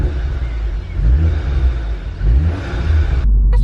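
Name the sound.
Volkswagen car with new exhaust accelerating, heard from inside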